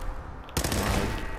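A pipe rifle fires in the video game Fallout 4, a sudden loud gunshot burst after a quiet moment, followed by a ringing, rumbling tail.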